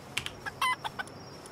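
A chicken creature in the video game Palworld gives a quick series of short, sharp clucks, about half a dozen in an uneven rhythm, close and fairly clear over a quiet background.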